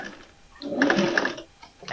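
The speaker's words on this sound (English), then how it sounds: "And you just sew all the way around, 1/8 of an inch away," A sewing machine stitches around the edge of a foam-lined travel thread catcher, about 1/8 inch in, sounding as one short, fairly loud burst of rapid mechanical whirring in the middle, with quieter handling before and after.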